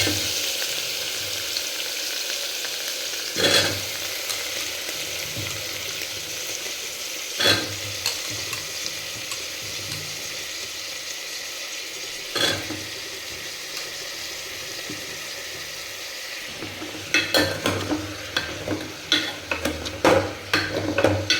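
Cut potatoes and brinjal fry in a pan with a soft continuous sizzle, broken by occasional spatula scrapes and a burst of clattering stirring near the end, close and unaccompanied by talk.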